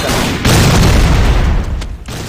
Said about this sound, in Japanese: ちょっとボム爆発したのか